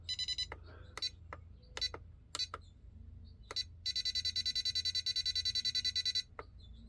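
A Radiolink RC6GS V3 transmitter sounds its low voltage alarm, giving sharp electronic beeps: a few scattered chirps first, then a rapid unbroken run of short pulses, close and clear against a quiet background.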